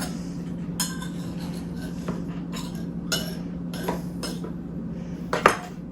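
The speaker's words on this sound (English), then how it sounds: "I'm taking a knife, cut any of this excess dough right off the side." A knife scraping and clinking against the rim of a pie pan while trimming excess dough, heard as several sharp metallic taps and scrapes over a steady low hum, with a louder clink at the end.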